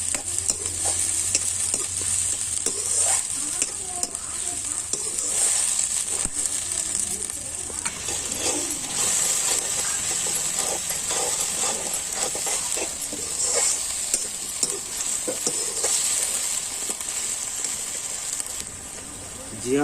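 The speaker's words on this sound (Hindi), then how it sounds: "अदरक का पेस्ट, तरीके से भून लेंगे ब्राउन के होते तक" Ginger paste and mutton fry and sizzle in a pan with constant stirring and scraping, a steady loud hiss throughout with occasional clatter of the spoon.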